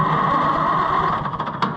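An old tractor engine hooked to a New Holland 352 grinder mixer labors at idle, its rough chugging turning uneven and sputtering toward the end as it struggles to keep running.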